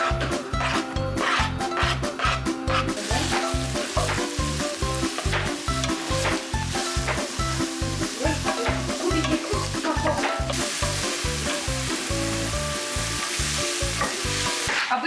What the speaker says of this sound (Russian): Давайте сейчас мы это все отправим обжариваться.